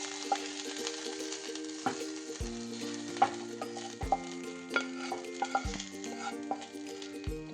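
Cluster beans (gavar) fry and sizzle in hot oil in a pan, with a steady crackle broken by repeated stirring scrapes and occasional utensil clinks, close and without speech.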